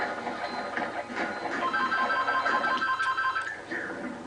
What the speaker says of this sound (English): another phone is ringing